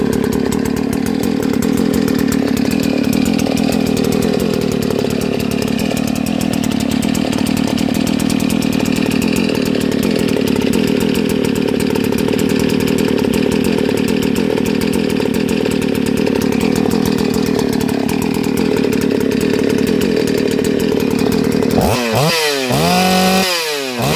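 A Stihl 381 72cc chainsaw, uncleaned, runs loud and steady at close range for about twenty seconds, then its note shifts and cuts off near the end, with no voices over it.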